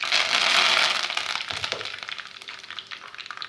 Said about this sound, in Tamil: நல்லா கடுகு பொரியட்டும்